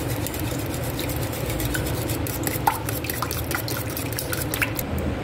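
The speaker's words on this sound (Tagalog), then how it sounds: "so i-mix muna natin to" Cake batter with oil and dates being mixed in a bowl: continuous wet stirring and sloshing close up, with light clicking from the utensil against the bowl and no talk.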